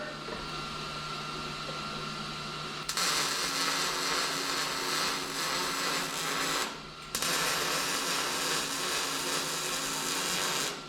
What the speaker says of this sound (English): put a big old weld on it.